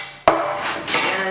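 An enamel baking pan being picked up and handled in a home kitchen, a sharp metallic clank followed by a second softer scrape and rattle, close and brief.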